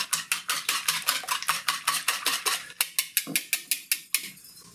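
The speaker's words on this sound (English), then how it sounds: "Whisk those in there." A whisk beats cream with salt and pepper in a bowl, a quick steady series of about twenty rhythmic scraping clinks, close and clear, with no voices.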